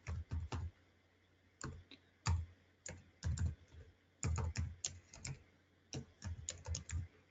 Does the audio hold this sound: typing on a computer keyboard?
yes